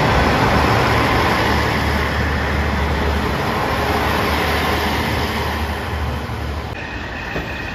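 JR Shikoku 1000 series diesel railcar rolling into Tokushima Station, a loud continuous engine and rail rumble that fades slightly toward the end.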